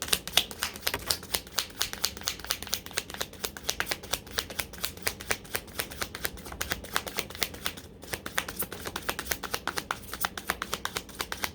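Tarot cards shuffled by hand at close range, a rapid, continuous run of crisp flicking and riffling clicks with a short pause partway through, no voice.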